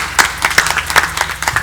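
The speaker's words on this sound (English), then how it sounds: "So let's give them a round of applause too." A small audience at a women's forum event claps in a quick, uneven patter of individual hand claps, fairly close and brief.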